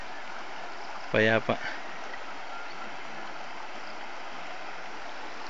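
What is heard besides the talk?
river flowing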